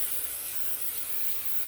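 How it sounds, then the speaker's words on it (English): Non-stick cooking spray hissing steadily from an aerosol can onto the bottom of a pizza pan, one continuous close spray lasting under two seconds, no voices. "I'm going to spray the bottom of my pan. This says this non-stick cooking spray."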